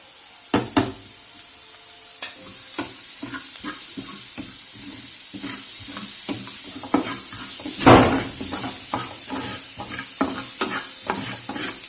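Onion, cabbage and spices sautéing in two spoons of cooking oil, a close, steady sizzle punctuated by repeated spatula knocks and scrapes against the pan, with a louder hiss burst midway.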